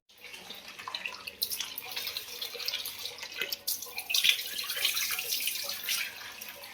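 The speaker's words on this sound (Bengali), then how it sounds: "বটবটিটা ভালো করে ধুয়ে নিলাম, আর এই কুমড়ো ধুয়ে নিয়েছি" Tap water runs steadily into a kitchen sink while flat beans and pumpkin are rinsed under it, a continuous close splashing stream with shifting spatter as the vegetables are handled.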